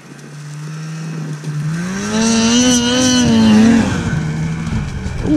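An 850 snowmobile engine winds up loudly from a steady idle-like drone into a rising, wavering rev as it accelerates, staying close and strong throughout.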